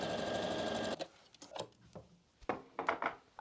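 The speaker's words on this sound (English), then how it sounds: "when I sew this is that I don't catch the elastic again so it can freely move" Sewing machine stitching fabric over elastic runs steadily and loudly for about a second, then stops, followed by scattered handling clicks and rustles.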